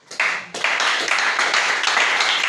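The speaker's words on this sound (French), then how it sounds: "Acclamez très fort" A church congregation breaks into loud, sustained applause and clapping after a brief quiet start, the dense clapping filling the space with a few voices mixed in.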